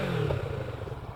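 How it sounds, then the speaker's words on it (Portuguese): A Kawasaki Z650RS motorcycle's exhaust rumbles close by as the engine starts, settling into a low, pulsing mid-level idle. "dar aqui ao start e já é um clássico, vamos ouvir aqui o escape"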